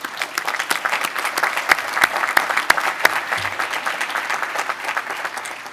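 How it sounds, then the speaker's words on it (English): Sustained applause from a large audience at the American College of Dentists convocation inducting new fellows, dense steady clapping with a few sharp louder claps standing out, no talk. "I applaud you."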